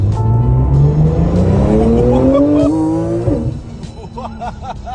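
A Porsche sports car fitted with a Topcar carbon body kit and reworked engine accelerates hard on the road, its engine note climbing loudly through the gears before easing off, with a voice talking faintly toward the end.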